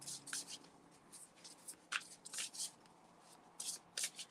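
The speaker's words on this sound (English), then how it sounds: "I wish all my decks shuffled so beautifully, like this one does." A deck of cards is shuffled in quick, soft riffles and slides, close and quiet, with short bursts spaced through a hushed room.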